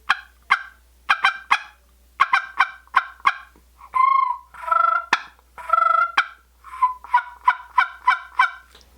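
Woodhaven tube turkey call sounding close and clear, with quick clusters of sharp raspy yelps broken by a few longer drawn-out purring notes, then a fast closing run of yelps.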